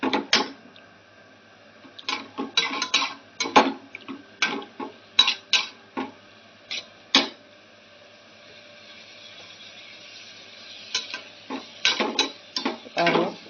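Beans being stirred in a metal cooking pan with a utensil, producing irregular scraping and clinking strokes in bursts with short pauses between them.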